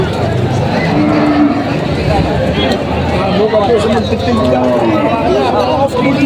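A water buffalo moos several times, loud and close, amid a busy crowd of people chattering at a livestock market in Padre Garcia, Batangas.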